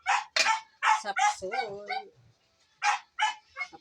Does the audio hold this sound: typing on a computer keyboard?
no